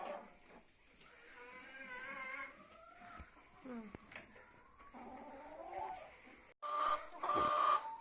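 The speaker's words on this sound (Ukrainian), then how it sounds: "а курка вже залізла і там парпає" A chicken clucks close by, with a dog and other farmyard noises mixed in and a voice speaking at times.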